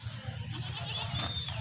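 Milk goat bleating among other goats in a livestock pen, a faint bleat over steady low background rumble.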